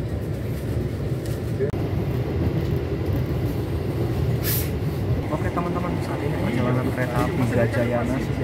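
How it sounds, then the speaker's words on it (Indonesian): Gajayana passenger train running through Manggarai station, a continuous loud rumble of wheels on rails with rattling carriages, a sharp hiss near the middle, and a voice talking over it. "tadi ketika keretanya sudah melintas langsung stasiun Manggarai"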